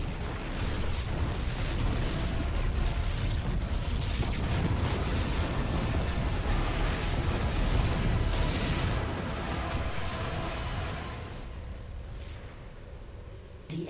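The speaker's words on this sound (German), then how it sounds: "Explosionen haben aufgehört." Heavy rumbling booms and explosions in the StarCraft 2 game Heart of the Swarm, a dense, loud, continuous roar of blasts filling about eleven seconds before thinning out near the end.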